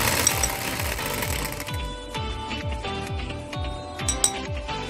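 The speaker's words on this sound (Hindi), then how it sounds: "अब हम इसको बीट करेंगे और आहिस्ता आहिस्ता करके इधर से हम लोग चीनी डालेंगे" An electric hand mixer beats powdered sugar into chocolate cake batter in a bowl, running steadily with a rhythmic whirring and repeated clinks of the beaters against the bowl, close and continuous with no talking.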